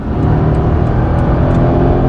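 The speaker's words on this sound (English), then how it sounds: "Feel the car picking up speed pretty quickly, up towards 200 kilometers per hour or so." A BMW 750Li xDrive with a chauffeur accelerates hard toward about 200 km/h, giving a loud, steady engine and road roar that holds for the whole stretch without any voices.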